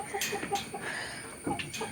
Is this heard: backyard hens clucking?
yes